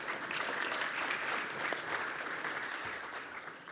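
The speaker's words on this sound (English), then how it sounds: "an applause." A hall of delegates at an inter-parliamentary conference on foreign and security policy breaks into sustained, even applause, a dense, steady patter of many hands clapping throughout.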